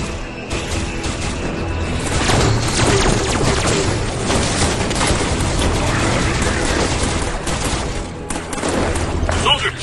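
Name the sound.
plasma caster weapon firing in a video game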